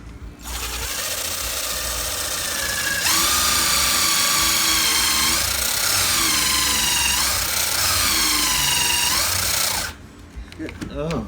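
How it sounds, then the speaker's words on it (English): A cordless drill countersinks into a wine barrel chair, a loud close whine that steps up in pitch and wavers under load for several seconds before stopping abruptly, followed by faint handling noise. "Countersink it."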